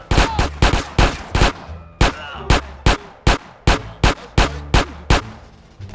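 Rapid gunfire in GTA San Andreas Remastered: a burst of loud, sharp shots in quick irregular succession, some clustered, repeating throughout without pause.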